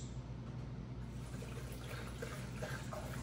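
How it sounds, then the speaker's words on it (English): Watermelon juice pours steadily into a container during homemade seamoss juice preparation, a continuous close liquid splashing and gurgling flow with no talk. "Pour the rest of the watermelon juice"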